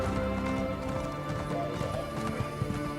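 A horse's hooves clip-clop in a quick, steady rhythm in the Elder Scrolls Online game, moderately loud over a low game soundtrack hum.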